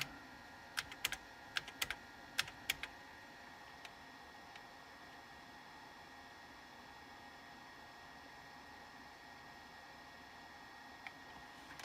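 A few quick keystrokes on a Tandy 1000 HX keyboard, faint and sparse clicks early on, then near silence with a low steady background hiss and one last tap.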